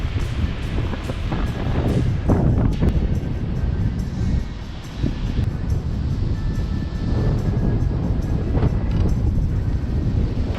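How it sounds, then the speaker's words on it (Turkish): Strong wind gusts buffet a microphone at a seaside campsite in Şile, with rough, heavily wavy sea surf roaring underneath; a continuous loud broadband rumble swells and eases throughout, no talking. "Sesim de şu an ne kadar geliyor onu da bilmiyorum çünkü bayağı bir rüzgar var"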